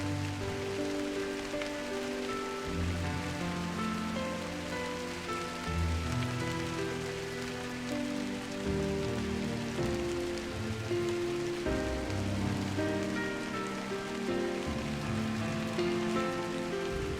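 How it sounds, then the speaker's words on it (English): Steady patter of light drizzle falling on surfaces in the video game Drizzlepath: Genie, soft and continuous, with gentle ambient music underneath and no speech. "I woke to a morning of light drizzle"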